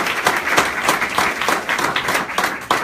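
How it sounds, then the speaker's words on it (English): Audience at a charity news conference announcing a platinum donation breaks into brisk, fairly loud applause, dense overlapping claps with a lively uneven rhythm for about three seconds. "Would you give them a round of applause?"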